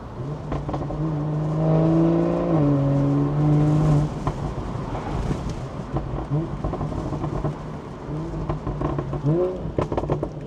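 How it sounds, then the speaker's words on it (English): A BMW G14 840i with a catback exhaust, 200-cell downpipe and Stage 2 remap drones loudly, then crackles with a run of sharp throttle blips on the downshifts toward the end. "And as you can hear, we have also added throttle blips to the downshifts."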